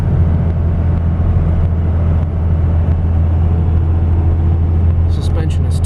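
A 2002 Dodge Ram 2500 Cummins diesel 4x4 with a six-speed manual cruises at 55 to 60 mph on a winding road, its low, steady engine and road rumble continuous throughout, with a brief voice near the end.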